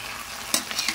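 Tofu, shrimp and bean sprouts stir-fry in a pan, a brief soft sizzle with a few quick scraping clatters of the spatula close by.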